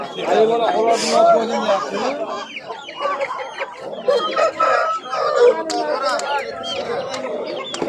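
Chickens and chicks cluck and crow together at a busy bazaar, a dense, continuous flock chorus close by, with people talking underneath throughout.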